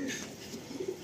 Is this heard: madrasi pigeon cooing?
yes